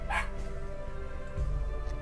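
A dog pokes its head out of a basket and gives a short close bark or yip, then pants in a quiet room.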